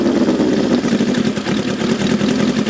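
A motorcycle engine idles with a steady, lumpy low rumble throughout, close by and fairly loud.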